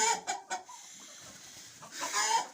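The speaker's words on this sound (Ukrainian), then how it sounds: "Ох, розпівалася курочка." A hen in a chicken coop clucks in short repeated bursts, starting with quick bursts and rising again near the end, fairly close, with no talking.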